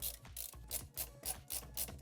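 A screwdriver ratchets in quick repeated clicking bursts while screws are driven into an original PS3 during reassembly, close and quiet with an even rhythm.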